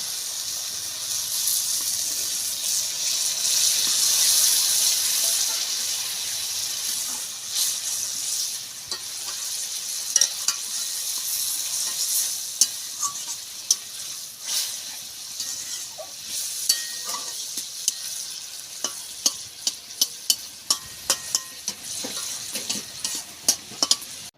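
Steady frying sizzle of a fish and potato curry in a pan with scraping stirring strokes, growing into sharper clicks and taps toward the end, with no voices.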